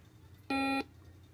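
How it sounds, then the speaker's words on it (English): A Hub Touch Simon game toy gives a single clean electronic beep after its button is tapped, a steady tone lasting about a third of a second over faint background hiss. "It'll beep after each tap"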